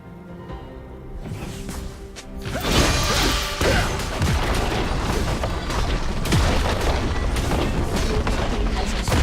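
A turret crumbling in League of Legends: a quiet start, then a heavy crash and booming blasts that give way to a sustained roar of battle effects.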